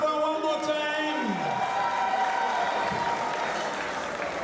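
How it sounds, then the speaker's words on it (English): Crowd applause at a school centenary celebration event, steady clapping mixed with a speaker's voice and some cheering in a large hall. "Hold that clap for one more time."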